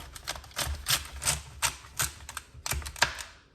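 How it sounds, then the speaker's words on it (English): A knife cuts celery stalks on a board in preparation for juicing, giving a quick series of sharp, crisp chopping taps close by with short pauses between them. "slice it up in about 3 cuts, just so that we can get it into the juicer"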